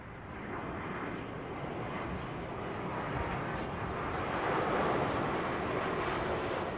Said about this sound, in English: It's a lovely old 330 with Turkish